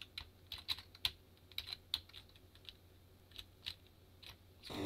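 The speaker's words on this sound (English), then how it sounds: "you're gonna have to put up with me hammering on the keys here" Keys on an Atari 8-bit computer keyboard are hammered in quick, irregular bursts of sharp, close clicks and clacks over a faint background hum.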